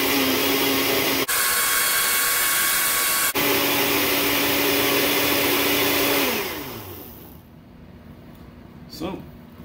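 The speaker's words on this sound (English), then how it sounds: "Once I get this going, I'm going to let it blend for about a minute." A blender whirs loudly while blending green hot sauce, running steadily for several seconds before its motor spins down and the sound fades to near quiet.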